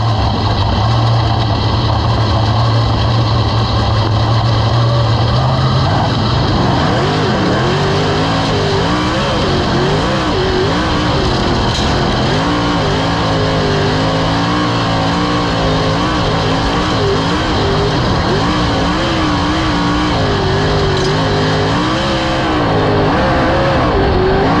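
A dirt-track race car engine at Cottage Grove Speedway roars loud and close for the whole stretch, its pitch rising and falling steadily as the driver works the throttle through the laps, with no talking.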